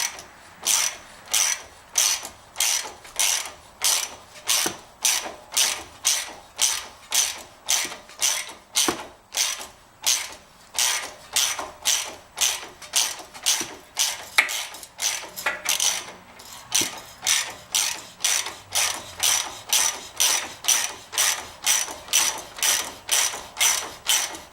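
Ratchet steadily cranking on a pre-loosened strut bolt of a 2014 Ford Fusion, a long run of evenly spaced sharp clicking bursts, close and loud with no talk.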